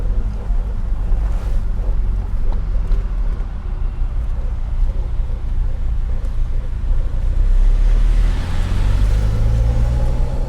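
Steady road and engine roar from inside a 1987 Dodge Daytona Shelby on the move, with a broad wind-like rush and a low drone that rises near the end as the turbo spools.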